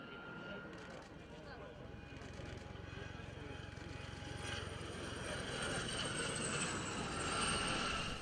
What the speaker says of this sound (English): These four helicopters are Gamma attack variants of the Gazelle